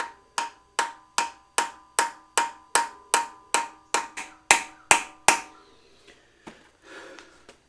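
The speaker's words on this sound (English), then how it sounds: "I am banging with a hammer" Steady, evenly spaced hammer blows strike metal about a dozen times up close while lining up parts on a Cummins-swapped Jeep, then stop, leaving a few faint knocks and clatter.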